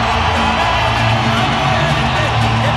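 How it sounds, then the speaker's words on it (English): A boxing arena crowd roars and cheers for Fernando Vargas, a dense, loud, sustained wall of voices and whoops filling the hall, with a commentator talking over it. "The crowd rises"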